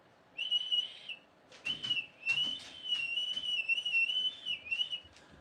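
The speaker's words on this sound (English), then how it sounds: "who wants to blow that good luck whistle?" A good luck whistle is blown in a series of bright, shrill whistle tones with pitch wobbles, starting with a short blast, then a pause, then a longer warbling run, fairly loud over faint room noise.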